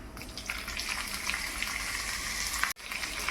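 Onion sizzling in hot oil with mustard seeds and fennel seeds in a pan, a steady close crackling hiss with a short gap near the end.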